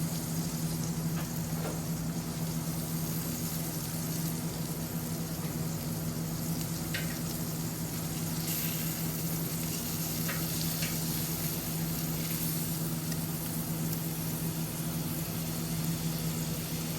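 Steak sizzling in a pan at an outdoor camp, a steady dense crackling hiss that runs the whole time, close and constant, with a low background hum and a few faint sharper pops.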